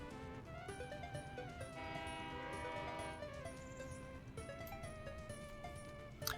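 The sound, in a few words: construction train arriving in video game Workers & Resources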